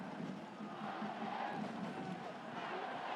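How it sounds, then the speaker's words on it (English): A loud home crowd at a Clermont versus Toulouse Top 14 rugby match: a dense, continuous roar of massed voices and chanting, steady throughout with no break. "they've got a very loud crowd right on their backs now"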